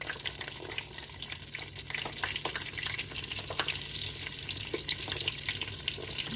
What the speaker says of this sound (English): Deep frying it.